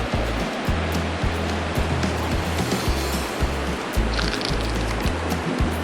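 A river rushes past a campsite at Kapisha's Hot Springs, a loud, steady broadband wash of flowing water close by, with a rhythmic low thumping underneath and no talk.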